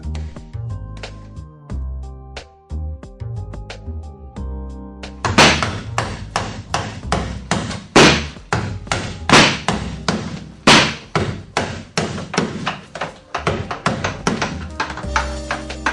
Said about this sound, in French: notre technicien utilisera une hache et une petite masse afin de s'attaquer directement au corps de cette porte standard